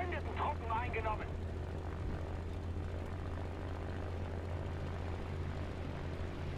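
Aircraft engine from a flight simulation video game, a steady propeller drone with a constant low hum throughout, and a German-speaking voice talking over the first second.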